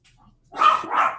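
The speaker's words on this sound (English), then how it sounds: "there's gonna be some dog barking soon" A dog barks twice in quick succession, close and loud, after a brief quiet moment.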